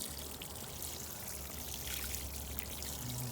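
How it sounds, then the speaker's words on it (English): Water pouring onto freshly planted rosemary seedlings in a container garden, a steady, soft splashing stream with no talk. "Water the rosemary."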